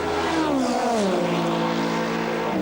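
Group C sports prototype race cars at Le Mans Legends 2004, a loud engine roaring close by and sweeping down in pitch as it passes, with the note settling into a lower steady drone.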